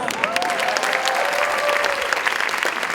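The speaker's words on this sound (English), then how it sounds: "so give them a round of applause" Steady, sustained audience applause from a crowd at the Beantown Revue 2024 show, filling the whole stretch evenly, with a faint whistle running through the middle.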